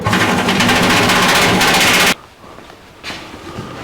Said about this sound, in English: Take a drill with a step bit in it